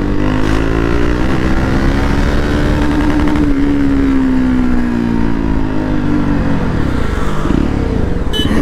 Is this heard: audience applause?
no